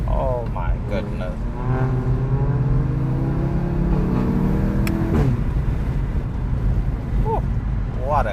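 A loud car exhaust roars as a 2016 VW Golf GTI Clubsport accelerates, revs climbing and rising in pitch, with shouted voices over it.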